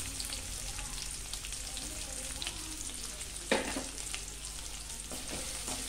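Sliced large onions sizzle steadily in hot oil with fennel seeds, a continuous crackling fry with a brief louder burst midway, close and alone with no talking.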